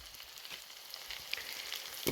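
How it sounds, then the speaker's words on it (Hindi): Vegetables with black pepper and cumin sizzle in a pan for veg momos, a steady soft frying hiss with a few light stirring taps, quiet and without speech. "और थोड़ा सा फ्राई कर लेंगे सब इंग्रेडिएंट्स को"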